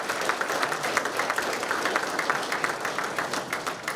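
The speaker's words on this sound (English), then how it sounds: "I'd like you to give a round of applause to all our speakers here tonight and our two panelists" A conference crowd at a national beef event claps for its speakers and panelists, a dense, lively patter of many hands sustained evenly for several seconds.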